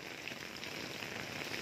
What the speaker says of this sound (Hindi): ताकि आप लोगों को भी अंदाज़ा हो सके कि कितनी तेज़ बारिश इस वक्त आ चुकी है।